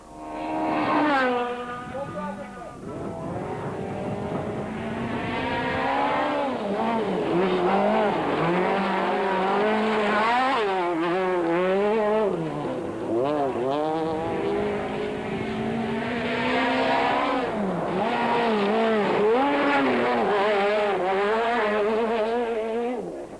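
A BP VW Polo rally car races flat out along a stage at the Cape Rally, its engine screaming loudly and rising and falling through gear changes and revs, continuous throughout, with a commentator's voice running over it.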